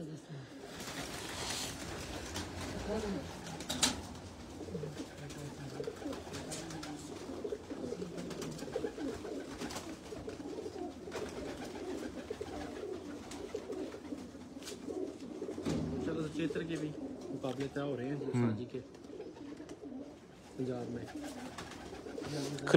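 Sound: pigeons cooing

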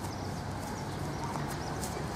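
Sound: horse walking, hooves clip-clopping

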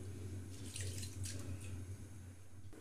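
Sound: straining water from soaked rice

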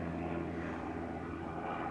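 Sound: skydiving propeller plane flying overhead

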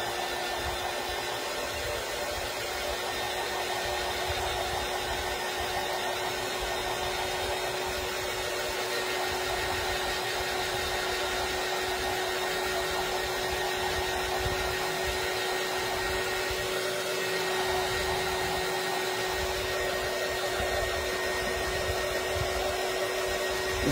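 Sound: dryer drying a freshly painted bottle

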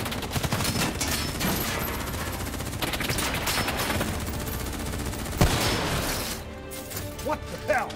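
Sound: gunfire in Call of Duty Black Ops III video game

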